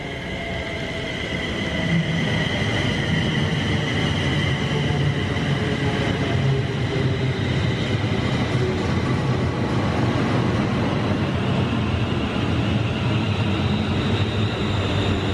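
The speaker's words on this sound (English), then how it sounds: "Here comes our train now, come up from London Euston, stops first at Milton Keynes and then Rugby and then all the stations up to Crewe" An eight-coach passenger train up from London Euston rolls into Stafford station, a loud steady rumble of wheels and rail noise with faint squeals, building over the first seconds and then holding close by.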